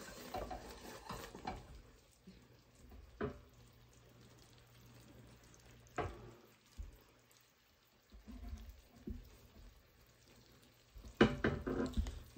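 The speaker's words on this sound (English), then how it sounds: "Just keep stirring." Butter melting in a pot for pecan candy, stirred with a utensil in irregular scraping bursts and soft clinks between quiet pauses, with no talk.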